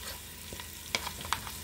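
Half an onion cooking in a pot of cowboy stew gives a low, steady sizzle with a few soft clicks and stirring knocks, fairly quiet and without talk.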